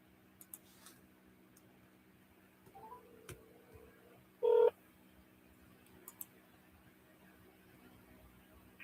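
A phone number is dialed during a real estate call, with faint scattered clicks followed by one short, louder keypad tone in an otherwise quiet room and no talking.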